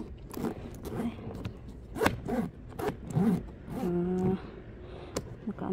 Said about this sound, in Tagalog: yung zipper.